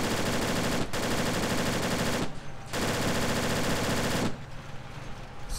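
Sustained automatic gunfire bursts in the video game DayZ, loud and dense, broken by two short pauses before trailing off into quieter shots.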